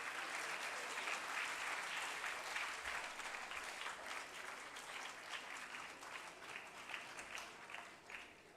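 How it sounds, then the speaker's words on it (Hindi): Loud, sustained applause from an audience at a National Sports Day 2025 ceremony, dense steady clapping filling the whole stretch and easing slightly toward the end. "जोरदार करताली होउथबा दरकार"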